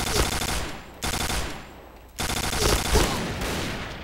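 Automatic fire from a FAMAS G2 rifle in the shooter game Point Blank: loud, sustained bursts of rapid gunshots, briefly broken by a short pause before another long burst.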